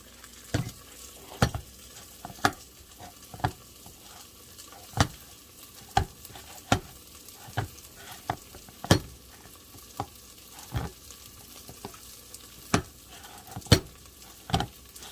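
Bacon and onion fry in a pot for Zuppa Toscana. A steady low sizzle runs underneath, and a spoon scrapes and knocks against the pot in sharp, regular strokes about once a second. No one speaks.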